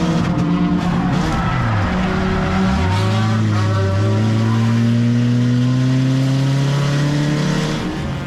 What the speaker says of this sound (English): Now that's how you drive a race car.